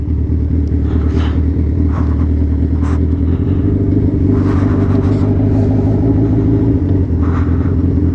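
A Suzuki B-King motorcycle idles with a deep, steady exhaust rumble, punctuated by several short throttle blips and revs at close range on a night ride.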